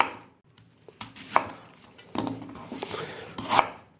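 Onion is chopped finely on a board for a traditional Spanish guiso carrero, close, uneven knife strikes and scraping clatter building in density toward the end.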